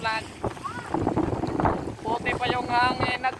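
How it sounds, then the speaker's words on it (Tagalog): Strong wind gusts buffet the microphone at a fishing port, with a boat engine and water sounds nearby and people talking over it. "Ang lakas ng hangin"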